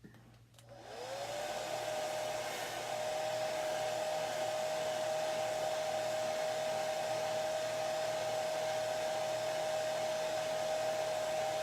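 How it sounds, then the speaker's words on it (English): A hair dryer blows steadily on a homemade softball gift craft, a loud continuous whine and rush of air that starts abruptly and holds unbroken for about eleven seconds, with no talking. "let me blow dry that"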